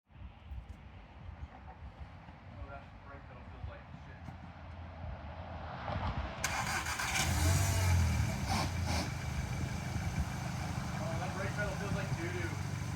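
An Audi 8V A3 Quattro engine hums low and steady while driving, then swells louder with a rushing roar of acceleration, with voices talking over it.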